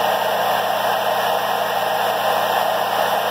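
A hairdryer blows a steady, loud airstream from its nozzle, a constant broadband whoosh with a faint motor hum underneath, unbroken and alone throughout.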